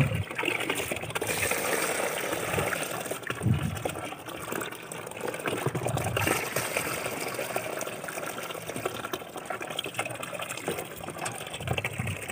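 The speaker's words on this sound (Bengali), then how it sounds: "মা এখন এখানে গমগুলো নিয়ে চলে এসেছে, ধোয়া হবে।" Water poured into a bucket to wash wheat grain, a steady gushing and splashing flow that runs unbroken for the whole stretch at close range, with no talking.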